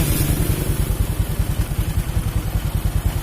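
A Honda Supra 125 motorcycle engine idles steadily at close range, a low, even chugging pulse with no revving and no voices.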